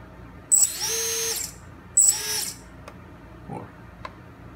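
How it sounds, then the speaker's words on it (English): Motors of a QAV210 quadcopter spin up in two short bursts of high, whining buzz, each about a second long, followed by fainter clicks and small sounds. "So they all run smooth, the master, bring them off, the motor sound, and they sound fantastic."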